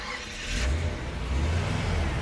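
A 1951 Chevrolet Bel Air six-cylinder engine starts up by push button close by and settles into a low, steady idle rumble with a slight rev.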